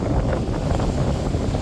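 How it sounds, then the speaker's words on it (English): Strong wind buffets the microphone on a rocky seashore during fishing, a steady broadband rumble with gusty surges and a wash of surf beneath, loud and continuous without talk. "breeze blowing real hard."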